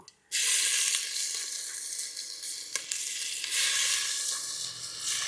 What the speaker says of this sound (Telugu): చక్కగా వేగనిద్దామండి